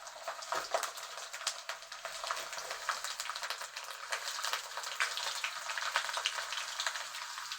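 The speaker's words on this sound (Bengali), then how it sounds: "লাল করে ভেজে নেবো আমরা, একদম লাল করে ভেজে নেব।" Garlic fries in hot mustard oil with a dense, continuous crackling sizzle full of fine popping, moderately close and steady throughout.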